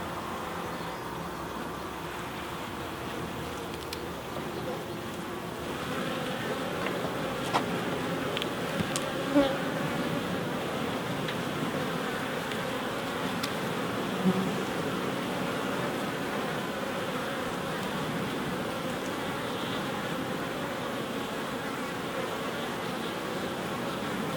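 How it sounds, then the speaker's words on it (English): Honeybees buzz steadily around an open hive frame full of brood and honey, a dense continuous drone close by that persists throughout with a few louder passes. "a lot of bees coming here"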